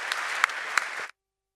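An audience at a panel discussion applauds, a short burst of dense clapping with a few sharper claps standing out, then abruptly cut off into silence.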